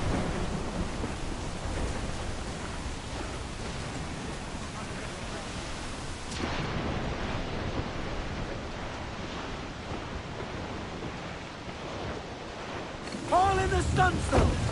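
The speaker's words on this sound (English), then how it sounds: "Storm, Captain! Looks bad!" Heavy wind and rain roar continuously during a thunderstorm at sea in Assassin's Creed IV Black Flag, a dense rushing wash with deep rumbles, ending in a louder gust with faint shouting voices.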